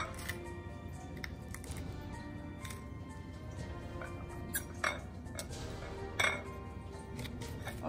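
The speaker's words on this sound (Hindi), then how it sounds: "जब तक हमारा मसाला ठंडा होता है तब तक हम मिर्च को काट लेते हैं।" Red chillies being cut in a kitchen for Marwari red chilli pickle, with a few faint, sharp knife clicks and clinks spaced apart over a low background hum.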